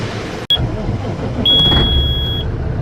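A farm truck's engine cranking and firing up near a grain bin, a sharp click followed by a loud starter whine and a rough motor catching, with no talk.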